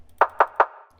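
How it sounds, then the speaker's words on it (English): Three evenly spaced, punchy clap hits from a layered clap drum sample in a deep house track, each a sharp bright snap with a short tail, heard dry and alone. "And then my clap is a few layers as well"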